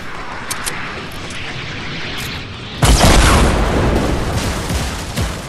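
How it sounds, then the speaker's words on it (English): An RPG rocket explodes in Fortnite, a sudden heavy boom midway that bursts loud and rumbles on, following a few seconds of lighter game noise with scattered small clicks. "I have an RPG shot incoming."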